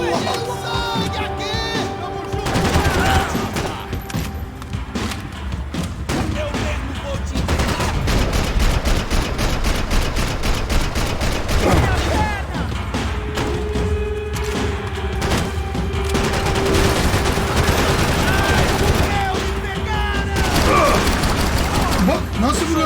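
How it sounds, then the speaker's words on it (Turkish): Sustained gunfire from the video game Max Payne 3, an escape from a police station: dense, continuous bursts of automatic fire and booms, loud throughout, with someone talking over the shooting. "Bak nasıl vuruyorum şimdi."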